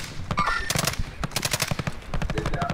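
Bursts of automatic and single-shot gunfire from the Call of Duty Warzone battle royale, a rapid crackling series of loud, close shots in several clusters with short gaps between them.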